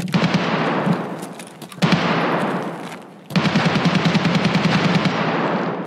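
Automatic gunfire in Escape From Tarkov comes in three long, rapid bursts of close, loud shots separated by brief gaps, with no voices over it.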